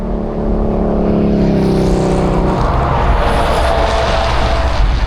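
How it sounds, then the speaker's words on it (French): Heavy road traffic of trucks, buses and cars roars past on a busy French road between Lyon and Lille, a loud, continuous rush of engines and tyres close by that swells as vehicles pass. "Mais là, bus, camion, voiture, ça y va à donf là."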